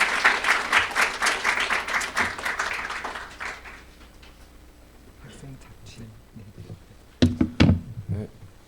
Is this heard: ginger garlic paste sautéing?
no